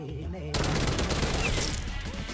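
Tec 9 submachine pistol firing in the video game Call of Duty Cold War: after a half-second lull, a loud, dense, sustained burst of rapid shots fills the rest of the moment.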